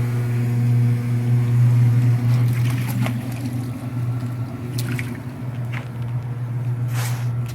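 Water sloshing inside a washing machine drum during a spin test after repair, a steady low motor hum with watery splashes and a few faint clicks, close and continuous.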